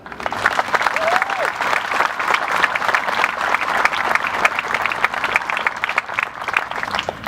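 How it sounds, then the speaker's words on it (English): Outdoor crowd at a Memorial Day event applauding volunteers, sustained dense clapping for several seconds with a few voices mixed in. "I think we all owe them a round of applause."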